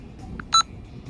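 Short electronic alarm chirp from an aftermarket alarm system on a 2018 Polaris Slingshot, a single brief tonal beep heard alone against quiet background.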